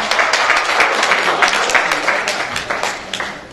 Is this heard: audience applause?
yes